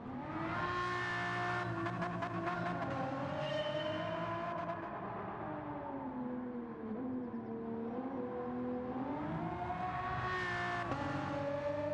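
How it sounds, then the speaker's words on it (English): A V12 race car engine in a Gran Turismo 7 replay, revving high and shifting through gears as pitch climbs, falls and climbs again, loud and continuous with no talking. "Not a bad sounding V12."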